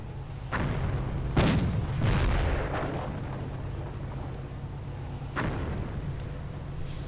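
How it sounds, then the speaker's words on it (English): Mortar fire in a strategy video game, with deep booming launches thumping at irregular intervals over a steady low battlefield rumble, several loud blasts followed by echoing decay. "And the mortar continues to fire away in the hopes of actually killing something."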